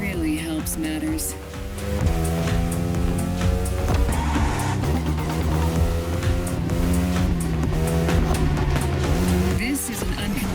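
A Ducati Panigale motorcycle in the racing game The Crew Motorfest gives a loud, continuous engine drone whose pitch rises and falls as it accelerates, mixed with game sounds and an indistinct voice.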